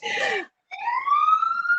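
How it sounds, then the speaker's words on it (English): A siren sounds in the background. A short burst is followed by a brief gap, then a rising electronic wail that climbs and holds, clear against otherwise quiet surroundings. "oh, I can hear a siren in the background"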